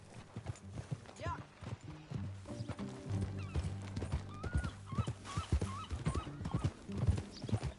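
Hooves clatter in a quick galloping rhythm with a brief whinny, a voice speaking faintly over the riding sounds.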